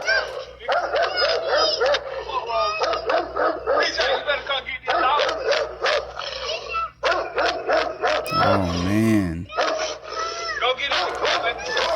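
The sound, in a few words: dog barking and whimpering in a TikTok video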